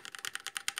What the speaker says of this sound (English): This is how the Keychron